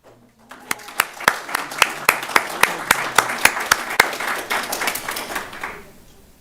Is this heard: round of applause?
yes